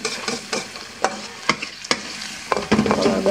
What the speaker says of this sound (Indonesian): Kalau agak-agak goreng begini dikit nggak masalah.